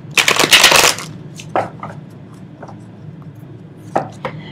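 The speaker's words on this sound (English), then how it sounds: "Let's do a hard shuffle on that." A deck of tarot cards gets a hard shuffle: one loud, close riffling burst lasting about a second, then a few soft taps and shuffles as the cards settle.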